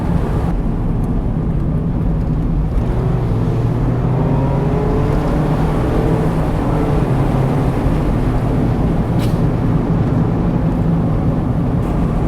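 A 2022 Mazda MX-5 Miata driving, its steady engine drone and road rumble loud and continuous from the cabin, with no talking.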